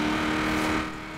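A Ford car engine in the Forza Horizon 4 racing game drones loudly and steadily for a moment, then eases off toward the end.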